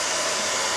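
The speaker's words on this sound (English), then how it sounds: "we're going to heat it up with a hairdryer" A hair dryer blows hot air over small gun parts for slow bluing, a loud, steady whirring roar that is close and continuous for the whole short moment.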